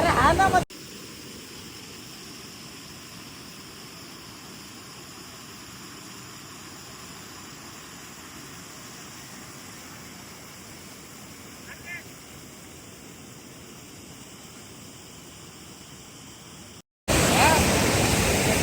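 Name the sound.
Tavli waterfall near Bohonoli village, Ambernath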